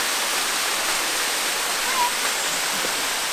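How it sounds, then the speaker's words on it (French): A mountain waterfall roars as a steady, loud wash of rushing water that fills the whole scene, constant and close with no voices. "on est arrivé à la cascade"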